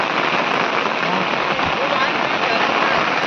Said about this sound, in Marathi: तर बघा आता पाऊस पण भरपूर येतो.